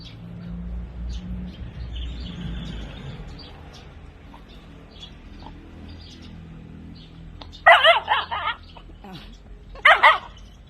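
A Thai Bangkaew dog barks at a ball, two short sharp bursts of barking near the end, following quieter background sounds, faint birdsong and soft talk earlier.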